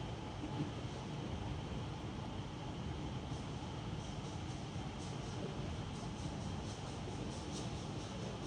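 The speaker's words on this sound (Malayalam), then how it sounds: "സ്കൈ ട്രെയിൻ പോകുന്നുണ്ട് ആ വഴി." A Singapore sky train runs past, a steady low rumble with faint rhythmic clicking from the rails, continuous and fairly distant, with no talking.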